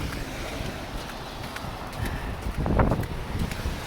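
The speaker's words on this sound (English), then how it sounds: "Yes, it's windy up here," Wind gusts across the Macdonald Bridge during a snowstorm, a rough, buffeting roar against the microphone that strengthens briefly near the end, with no voices.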